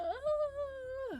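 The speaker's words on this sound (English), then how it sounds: "sorry, yawning." A single long human yawn, rising, holding on a drawn-out vowel tone and dropping away at the end, close and fairly loud with no other sound around it.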